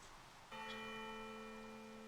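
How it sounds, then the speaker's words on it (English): Bells ring out in the video game Rogue Galaxy, one sustained, resonant tone that enters suddenly and keeps ringing over a faint background hum. "Listen, the bells."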